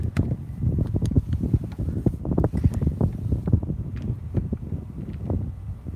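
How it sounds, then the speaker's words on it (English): Wind gusts whip a loose piece of plastic outdoors at night, producing a dense, irregular flapping and rattling that runs close to the microphone amid constant wind buffeting. "Piece of plastic flapping in the wind"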